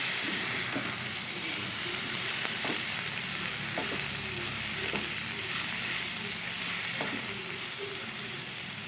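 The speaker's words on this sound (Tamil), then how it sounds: "தக்காளி வெங்காயம் எல்லாம் ஒன்றா கிளறி வந்துருச்சு" Chopped tomatoes and onions sizzle in a pan for a potato kootu while a spoon stirs them, giving an even frying hiss punctuated by regular scraping clicks about every second or two.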